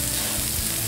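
Food sizzling steadily in a frying pan, a continuous loud hiss of hot oil with no talking, turned every minute until golden brown.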